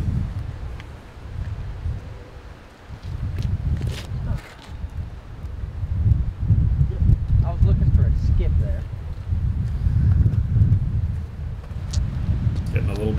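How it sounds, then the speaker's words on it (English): Wind gusts across an outdoor disc golf course during a doubles round, a low rumbling buffet on the microphone that rises and falls, with faint voices underneath. "Getting a little bit windy."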